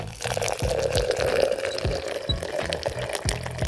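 Hot water pours steadily into a French press carafe over about 18 grams of coarsely ground coffee, a close, continuous liquid splash and fill with a few faint knocks underneath.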